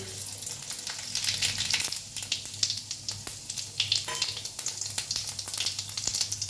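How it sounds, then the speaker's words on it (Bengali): Loud crackling sizzle of dried red chillies and white cumin hitting hot oil, with quick popping bursts and occasional stirring clinks, close and continuous. "কড়াইতে আমি শুকনো লঙ্কা ফোড়ন দিচ্ছি,"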